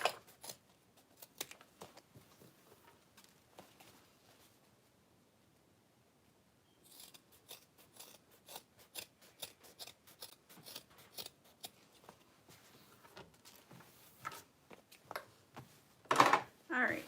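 Scissors cut through excess leather while a custom bag is sewn, with a steady run of short, crisp snips close by. They pause briefly partway, then resume more densely, with a few louder cuts near the end.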